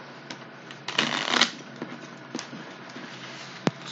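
A deck of tarot cards being shuffled by hand, close and alone, with a dense riffling burst in the middle and scattered soft taps and flicks around it, ending in one sharp snap.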